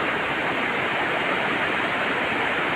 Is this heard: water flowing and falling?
yes